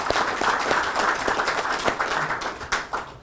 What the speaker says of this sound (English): We want to give a round of applause to all our contributors.